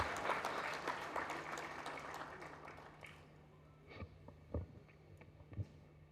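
An indoor audience at a memorial lecture gives a round of applause for a speaker. The clapping is dense at first, then thins and fades over several seconds to a few scattered claps and small noises.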